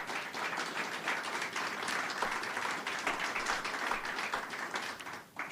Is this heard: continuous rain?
no